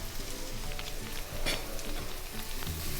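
Potato with turmeric and asafoetida fries in a pan, a soft, steady sizzle and crackle with a brief stirring scrape midway, close by and fairly quiet.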